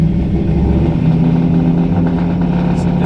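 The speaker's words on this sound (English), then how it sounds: "If I give it a little gas," A car engine revs under light throttle, a close mid-pitched rise and hold of engine note over roughly three seconds with no talking.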